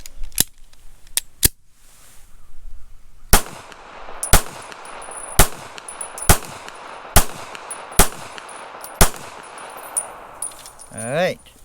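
A Taurus Spectrum .380 ACP pistol fires Browning rounds in sharp single shots: three spaced cracks, then seven more at a steady rhythm about one per second, with faint ringing between them.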